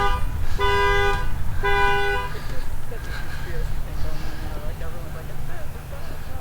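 Two short honks from a car horn ring out close by in a crowded area near Mākaha, Hawaii, then fade into a busy roar of traffic and crowd noise with people talking.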